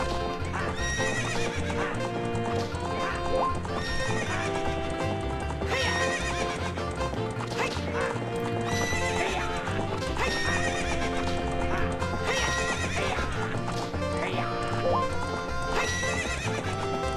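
A horse in The Legend of Zelda: Ocarina of Time gallops during a ranch race, with loud, continuous clip-clopping hooves and repeated neighs and whinnies layered into a dense, busy game soundtrack.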